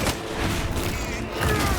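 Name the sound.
gunfire shooting bullets, Space Marine 2 video game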